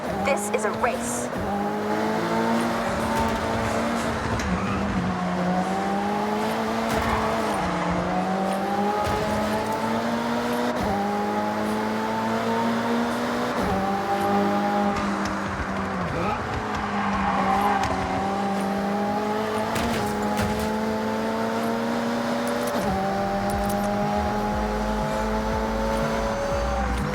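Race cars roaring in Forza Horizon, engines revving up through the gears with repeated rising and falling pitch, loud and continuous, with people talking over the engine noise.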